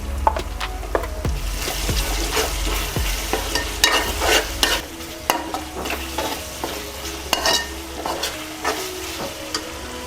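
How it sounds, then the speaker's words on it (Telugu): Onions and tomatoes fry in a pan for a fish curry, a steady close sizzle broken by repeated scraping stirs that grow sparser and softer partway through, with no talking. "సో ఆనియన్స్ టమాటాలు ఇట్లా ఫ్రై అవుతాయండి."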